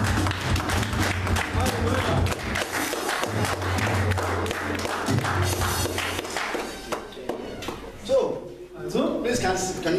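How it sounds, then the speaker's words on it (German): Clapping from a church congregation during a worship service, rising in bursts under a preacher's voice as he speaks in English and German. "Give God a clap offering this one."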